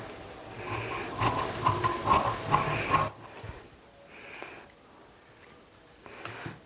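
Scissors snip through fabric being cut along a line drawn with tape, for home tailoring before stitching. A loud burst of rasping cuts comes in the first few seconds, then quieter, intermittent snips follow.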